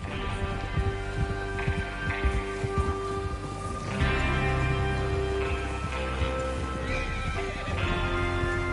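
Horses whinnying and hooves clip-clopping in the Red Dead Redemption 2 video game, a loud neigh standing out over steady hoofbeats and a low musical drone, fairly close and continuous.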